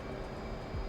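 Twin A-10C jet engines in the DCS flight simulator spool at full military power, a steady, dense roar that swells slightly toward the end, with no voices.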